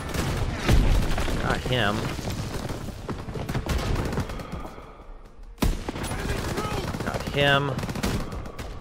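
Rapid gunfire in Call of Duty: WWII, bursts of machine-gun and rifle shots crackling throughout amid game effects, with brief talk between the shots.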